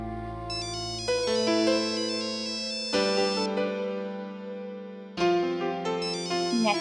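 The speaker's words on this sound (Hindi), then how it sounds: "नैतिक जी का फोन है।" A mobile phone ringtone plays a bright electronic melody, repeating its tuneful phrase clearly and loudly on its own, restarting after a brief pause.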